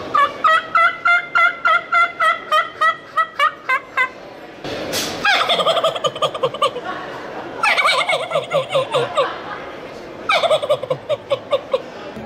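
Rapid rhythmic gobbling of a wild turkey imitated on a game call, loud and close, in repeated bursts separated by short pauses, with no voices.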